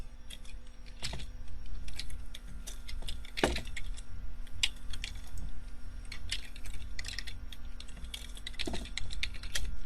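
Keys clacking on a computer keyboard as a Linux terminal command is typed to install the Python editor IDLE, a steady run of close keystrokes over faint background hum, with one heavier key thud midway.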